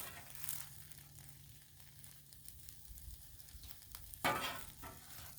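Breakfast hash of hash browns, eggs, cheese and Canadian bacon frying on a Blackstone griddle, a low steady sizzle with a scrape of a spatula near the end, no talk.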